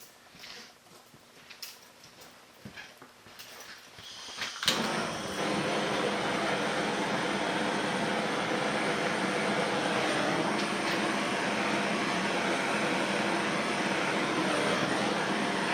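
A heat gun blows steadily and loudly, starting abruptly after a few seconds of quieter handling, as it shrinks heat shrink tubing over a looped quarter-inch steel rope cable.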